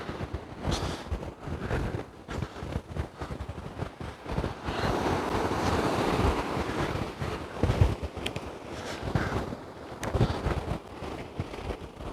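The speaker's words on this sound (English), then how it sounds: "Come back out of them waves there, they're big." Big sea waves break and wash up a shingle-and-sand beach on the Holderness coast at Dimlington. The surf makes a steady rushing roar, with wind buffeting the microphone.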